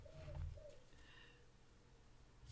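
Faint outdoor bird calls, a low pigeon- or dove-like coo near the start followed by a few soft higher notes, distant and quiet over a hushed background.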